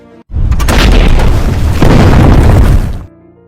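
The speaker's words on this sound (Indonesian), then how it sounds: "Pertempuran dibuka dengan tembakan senapan anti-tank dari tentara Uni Soviet, dan tidak lama dibalas oleh tank tentara Jerman." One loud, heavy boom from anti-tank rifle and tank fire in a Soviet-German battle scene from the war film Panfilov's 28 Men, a dense roaring blast lasting about three seconds before cutting off sharply.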